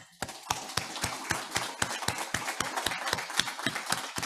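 A small congregation at a church service applauds, sharp distinct claps repeating in a steady, even patter for several seconds, close and fairly quiet with no talk over it.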